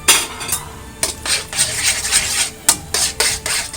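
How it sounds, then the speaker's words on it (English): A utensil stirring prepared egg in a metal pan for spaghetti carbonara, giving steady scraping, rubbing strokes with brief clinks at an even pace, close by. "And right now we stir."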